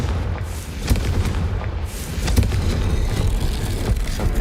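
Confringo blasting spell in Hogwarts Legacy sets off a series of loud, booming explosions with rumbling low end and crackling bursts, heard alone without speech.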